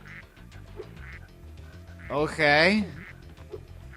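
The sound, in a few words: duck quacking in video game Spyro 2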